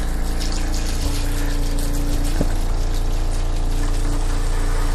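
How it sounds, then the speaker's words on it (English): An RV's fresh water pump primes itself with a steady, continuous mechanical hum and gushing water, heard up close on its own with no talking. "you'll need to turn the water pump on"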